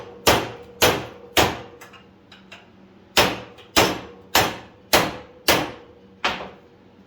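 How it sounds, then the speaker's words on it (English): A pipe being hammered flat during an oil pan job on a 1977 Bronco with a Coyote swap: nine sharp metallic blows, a quick group of three, a pause, then six more in steady rhythm, loud and close. "and then usually hammer it."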